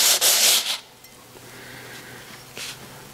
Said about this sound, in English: So we've been sanding for a little while right now